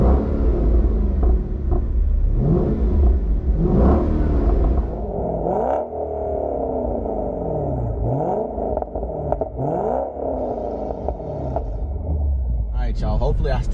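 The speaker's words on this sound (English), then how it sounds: "once you rev it, because I got some Corsa, it's not stock exhaust, I got Corsa exhaust on the back." A manual SRT fitted with an aftermarket Corsa exhaust, loud and close, its engine rumbling and revving in repeated rising and falling sweeps, with a person talking over it.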